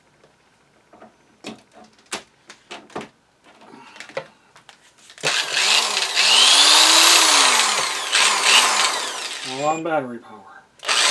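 A cordless drill powered from a solar battery power station whirs loudly for several seconds, rising and falling in pitch, then gives a few shorter bursts, after someone talks with clicks and handling sounds.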